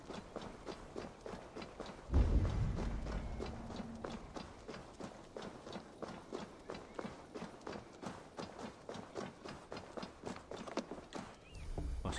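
Horse hooves gallop in Assassin's Creed Valhalla on Xbox Series X, a fast steady clip-clop run of close, crisp hoofbeats that starts after a heavy thud and continues for several seconds.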